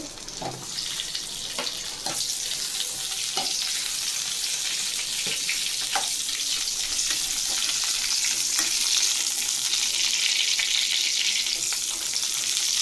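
Spices or vegetables sautéing in hot oil in a pan for a meatless mutton-style kuzhambu: a steady, close sizzle throughout, broken by occasional light clicks and scrapes of stirring, with no talking.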